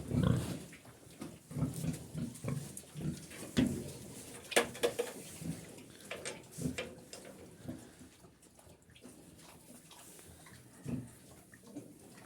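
Soft, irregular grunts and snuffling from sleeping piglets, close by, with bursts of low snorts that taper off into quieter shuffling.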